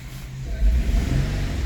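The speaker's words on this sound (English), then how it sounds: "Car start" The engine of a 2014 Infiniti fires up, with a low rumble rising into a brief rev before settling to a steady idle. The car has a camshaft position sensor fault, and the sound is close and alone, without talk.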